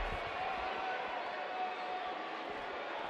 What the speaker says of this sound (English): Another electric crowd on hand here for SmackDown